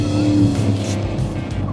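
Lamborghini Huracán engine in a VR racing game revving steadily and shifting through gears, a loud continuous drone with some tire noise, no talk over it.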